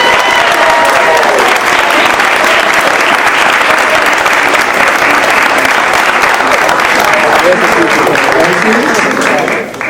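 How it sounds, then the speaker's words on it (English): A crowd at a youth candidate forum in Miami Springs applauds the youth committee with loud, sustained clapping for nearly ten seconds, with faint voices in the mix. "Stand up and let's give them a hand of applause"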